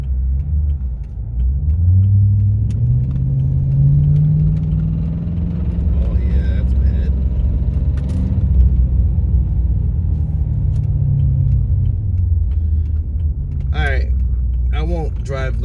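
Chrysler 300C SRT Design driving along, a deep steady rumble that swells and eases with engine speed inside the cabin, with someone talking briefly near the end.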